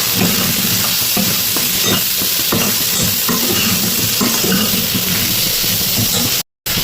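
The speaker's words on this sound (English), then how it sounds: "Add a little turmeric, red chili powder, and we'll saute it." Sautéing in a pan with turmeric and red chili powder, a loud continuous sizzle with soft stirring scrapes, close up, cutting off briefly near the end, no voices.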